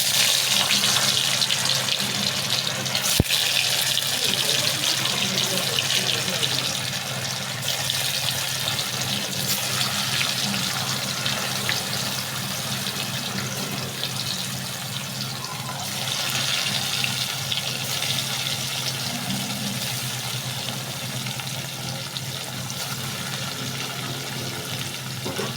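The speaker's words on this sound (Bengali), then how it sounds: "পনিরগুলোকে এর মধ্যে আস্তে আস্তে দিয়ে আমি ভেজে নেব।" Paneer pieces frying in hot oil in a wok give a steady, dense sizzling hiss that runs unbroken for the whole stretch, loud and close with small swells and crackles.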